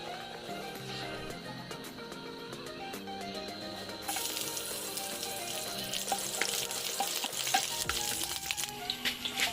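Garlic fries in hot oil in a pan for squid adobo, a steady close sizzle that grows louder and denser partway through, with occasional clinks and no talk.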